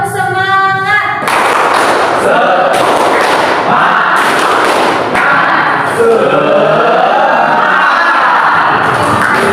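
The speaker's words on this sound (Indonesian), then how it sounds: "Coba kita sekarang tepuk semangat." A class chants and shouts together over bursts of rhythmic clapping and thumps, a loud, lively crowd sound that rises and falls.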